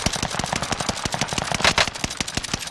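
Rapid automatic gunfire from a gun in the video game Warzone, a fast, continuous string of sharp shots at an even rhythm, loud and close with no talking.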